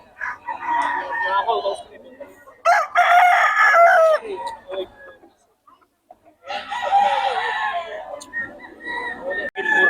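A Gilmore Hatch gamecock rooster crows loudly and close on a farm, several drawn-out calls separated by brief pauses, with other fowl clucking nearby and faint talk in the background.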